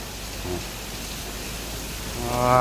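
Steady hiss of rain pouring down, a broad wash of noise with faint tonal hum creeping in near the end.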